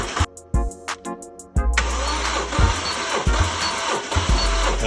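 Toyota 1JZ-GTE engine cranking with a rapid series of starter-driven compression pulses, then catching and settling into a loud, close, rough idle with rhythmic low thumps.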